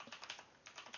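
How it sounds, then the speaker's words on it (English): Typing on a computer keyboard while coding in Python, a quick uneven run of soft key clicks, close and fairly faint, with no voices. "sorry about my atrocious typing"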